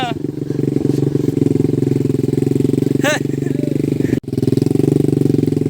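An old Honda motorcycle engine with no brakes runs steadily while riding a muddy, slippery road after rain, a loud, close, continuous thrumming drone with a brief dip near the end, with someone talking over it.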